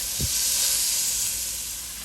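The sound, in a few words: ground beef cooking down in a pan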